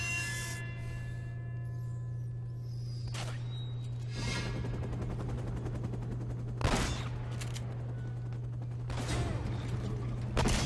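Gunfire in Uncharted: Drake's Fortune, a handful of sharp single shots spaced a few seconds apart over a steady low hum and faint mechanical rubbing, moderately quiet overall.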